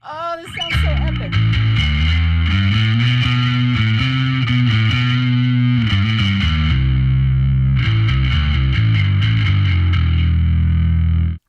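A bass guitar plays a loud, sustained riff through a Darkglass Alpha Omega Photon distortion pedal, giving a thick, heavily driven tone with a brief pause midway before the riff returns, with no voices.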